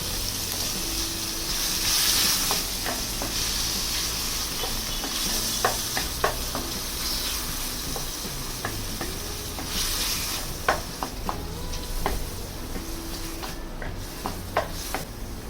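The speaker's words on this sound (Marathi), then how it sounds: "त्यामध्ये थोडंसं तेल घालून पनीर घातलं. पनीरही एक 5 मिनटं गुलाबी रंगावर छान परतून घेतलं." Paneer fries in a little oil in a pan alongside vegetables, giving a steady close sizzle, with occasional spatula taps and stirring clicks and no talk.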